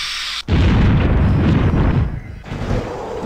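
A torpedo explodes in the flight-combat game Project Nomads with a sudden loud blast that rolls into a long rumbling roar, followed by a second softer burst near the end, with no talking over it.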